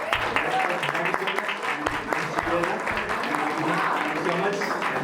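A crowd at a college film festival claps and cheers steadily and loudly for several seconds, with dense rapid claps and voices mixed into the applause.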